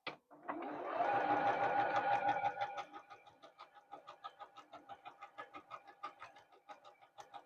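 A domestic sewing machine stitches a quilt block for a flag quilt, starting with a fast whirring run and then slowing into a close, even series of distinct mechanical stitch beats.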